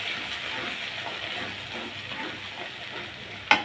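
Mixed spice paste sizzles and fries in a pan as it is stirred, a steady hissing crackle with a sharp scrape of the spoon at the end and no talk.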